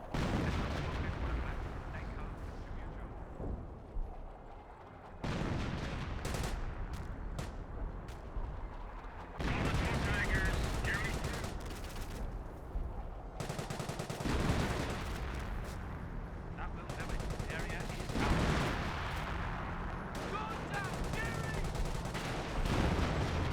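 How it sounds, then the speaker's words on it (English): Officer-called artillery barrage in the Company of Heroes strategy game, a dense stretch of booming shell impacts and rumbling explosions with overlapping gunfire and battle noise throughout, with no talk. "More officer artillery. Gets a direct hit there."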